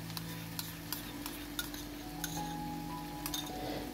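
Vegetables and tomato sauce being stirred together in a pan for vegetable-stuffed aubergines, with a utensil scraping and clinking against the pan in a steady irregular rhythm under a soft background sizzle.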